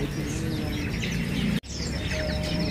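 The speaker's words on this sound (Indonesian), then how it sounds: "Untuk hari ini ready ya burung kenari loper" A bright loper canary sings at a bird market, its chirping phrases rising over constant market noise, cut by a short gap midway before the twittering resumes.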